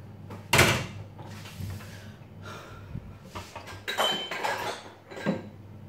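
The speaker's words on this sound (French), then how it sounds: "On va d'abord ramener le bol." A bowl is set down with clattering dish and cutlery knocks in a home kitchen while instant Chinese noodles are prepared, several close sharp clinks and thuds scattered across the moment, no talking.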